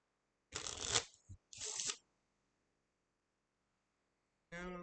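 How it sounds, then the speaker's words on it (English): A deck of playing cards is shuffled in two quick, crisp riffling bursts close to the microphone, followed by silence and then a voice speaking. "And let's shuffle just a little bit more, just to make sure."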